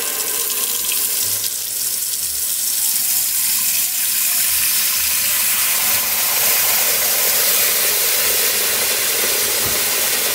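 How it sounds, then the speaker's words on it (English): Tap water runs steadily into a cooking pot being filled with about 2.5 liters for boiling spaghetti noodles, a continuous broadband splashing hiss that grows slightly fuller and brighter toward the end, with no talking. "Pot and fill it up to like"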